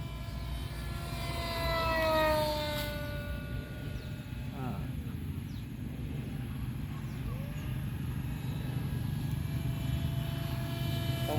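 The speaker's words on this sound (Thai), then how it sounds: "ลองเร่งดู ลองเร่งเครื่อง" A steady engine drone fills the clip and swells slightly as it is revved, with a voice speaking briefly over it.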